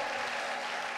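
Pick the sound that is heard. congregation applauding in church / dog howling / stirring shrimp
congregation applauding in church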